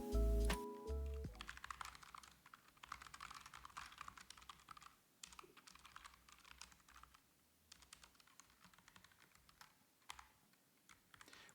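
Close, quiet keyboard typing runs steadily for about eleven seconds while game code is rewritten in the Godot engine, a patter of soft key clicks with brief pauses and a louder thump at the very start.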